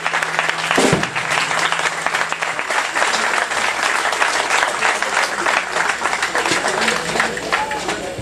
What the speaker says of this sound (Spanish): Un pinche aplauso bien cabrón para mi carnal y para su familia